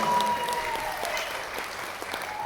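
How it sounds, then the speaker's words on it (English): Audience applause at a stage hypnosis show in a theater, a steady wash of many hands clapping, fairly faint and even throughout, with no talking over it. "Give these guys another round of applause"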